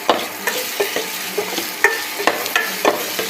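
Ginger garlic paste sautés in a pan for chicken uppu kari, a close, steady sizzle punctuated by regular scraping stirs of a spoon about every half second.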